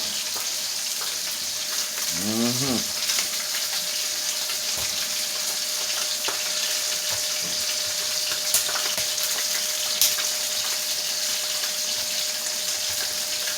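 Fish frying in a pan for a Jamaican fry-fish meal, a steady broad close sizzle hissing without pause, with a faint voice briefly in the background.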